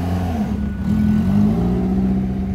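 A 700-horsepower car engine revs at a steady mid-pitched drone, rising and falling slightly in pitch as it runs, heard from close by with no voices over it.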